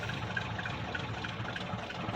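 A 1978 Chevy K20 Scottsdale pickup with a 400 cubic-inch V8 and a loose belt idles roughly after startup, a steady low mechanical rumble with a faint whine above it, close and continuous throughout.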